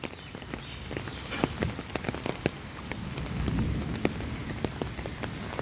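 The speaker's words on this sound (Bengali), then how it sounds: "বৃষ্টি টিপ টিপ শব্দ হচ্ছে, বৃষ্টি পড়ছে," Rain patters steadily on leaves and the ground of a leafy university campus in Dhaka, with scattered sharper drips standing out against a continuous wash of rainfall and no voices.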